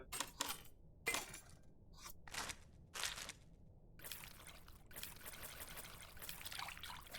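Water trickles and pours into a bowl in the cooking game Venba, arriving in short splashy bursts at first, then a steadier stream toward the end, fairly quiet and with no talking.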